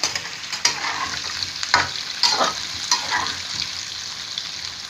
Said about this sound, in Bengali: একটু ভাজা ভাজা করে নেবো আলুগুলোকে।